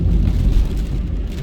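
Heavy rain and wind from Tropical Storm Grace in Jamaica make a loud, dense, rumbling downpour with a deep low roar that stays steady throughout, with no voices.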